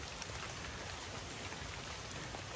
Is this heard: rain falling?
yes